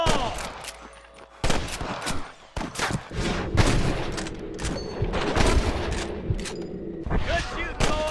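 A shootout in Red Dead Redemption, with loud bursts of gunfire and repeated shots arriving in irregular volleys over continuous battle noise, while voices shout over the action.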